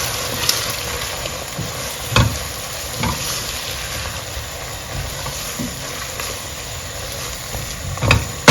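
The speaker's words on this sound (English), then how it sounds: "And I'll stir everything in." Stirring a pot of Nigerian yam pottage (asaro) with flaked catfish and crayfish powder, a steady soft scraping and bubbling texture with a few louder clunks of the spoon against the pot.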